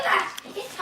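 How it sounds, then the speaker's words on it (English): A dog barks in a short burst, fairly close, mixed in with people talking nearby. "Oh, Frankie, stop barking"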